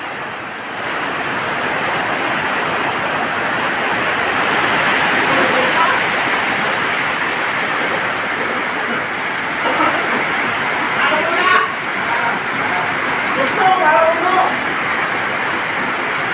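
Heavy downpour during a storm over rough sea near Tabaco, Albay: a dense, steady roar of rain and surf, with voices talking faintly in the later part.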